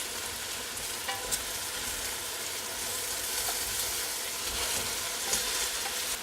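Pork browning in a pot, a continuous close sizzle and crackle with faint scraping, steady and unbroken throughout.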